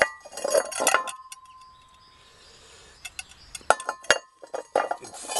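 Glazed ceramic dishes and bowls from a small wood-fired kiln clink and knock together in several bright, close bursts, with a quiet pause between clusters.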